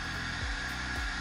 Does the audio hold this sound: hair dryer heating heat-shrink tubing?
yes